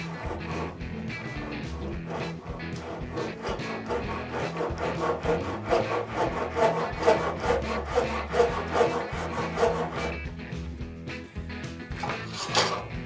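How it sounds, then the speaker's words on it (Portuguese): A Japanese Ryoba pull saw cross-cutting a piece of wood clamped in a vise: rapid, regular rasping strokes that grow louder and faster midway, then a brief pause and a few final strokes. "vou fazer um corte utilizando uma das fileiras de dentes aqui do serrote Ryoba, que é o corte na transversal"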